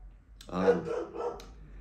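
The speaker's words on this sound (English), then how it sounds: "There's my dog, Charlie." A pet dog barks a few times at close range, sharp yaps punctuating the quiet of a home recording setup.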